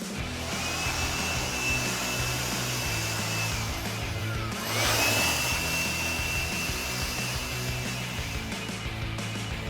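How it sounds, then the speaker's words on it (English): A blower clears metal shavings off the painted body of a 2010-2014 Ford Mustang, hissing in a steady rush that swells briefly louder midway, close to the microphone with no talking. "I'm gonna grab a blower and just kind of clean that off"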